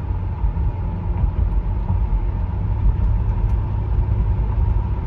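A 1971 Mercury Marquis Brougham with a 429 two-barrel V8 on 15-inch wheels cruises at twilight, giving a steady, subdued low engine hum and road rumble from inside the cabin, with no talking.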